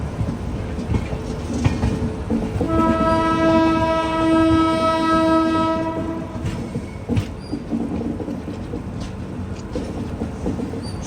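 The Pune Kanyakumari Express rumbles along the rails, and a long, loud horn blast rings out for a few seconds in the middle before the steady rattle of the wagons carries on.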